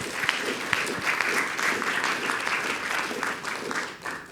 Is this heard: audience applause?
yes